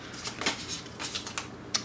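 Tarot cards being shuffled by hand, a run of soft, rapid papery riffles and flicks close by, quiet and alone with no talk over them.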